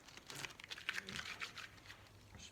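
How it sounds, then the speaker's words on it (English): Tape is peeled off a guitar body in close, quick crinkling rips of short bursts that fade after about two seconds. "So take this tape off on this side here."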